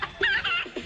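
Key West chickens cluck in a quick burst of short, close calls, several choppy clucks and squawks in about a second with no talk over them.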